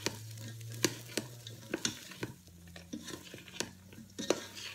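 Carrots and other vegetables stir frying in a Ninja Foodi, a steady sizzle broken by sharp clacks and scrapes of a utensil stirring the pot at irregular intervals, close and alone.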